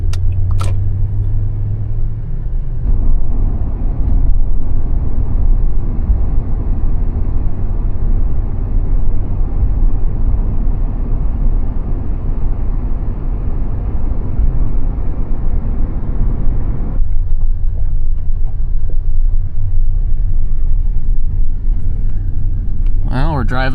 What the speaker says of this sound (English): We're driving up the road here to my property.